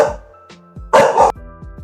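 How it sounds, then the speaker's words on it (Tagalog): A dog barking indoors at a home, a few sharp loud barks with a short yip earlier, close to the microphone and heard alone without talk. "Alam niyo naman may aso."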